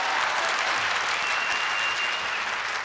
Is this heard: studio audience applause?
yes